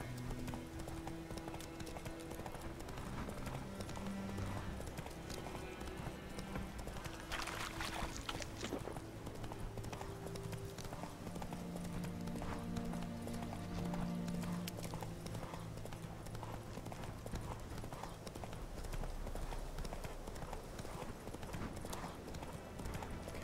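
Geralt's horse Roach gallops in the video game The Witcher 3, a steady, fairly quiet run of hoofbeats over a continuous background score.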